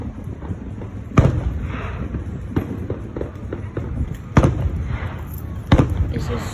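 Fireworks burst at intervals, with several sharp loud bangs spaced a second or more apart over a murmuring crowd background.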